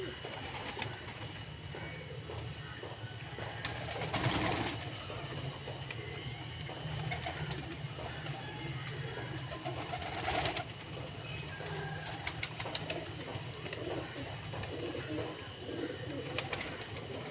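Pigeons at feeding time inside netted enclosures of a pigeon club loft, steady soft cooing with broadband fluttering bursts of wings, a loud flurry near the start and another midway, continuous throughout.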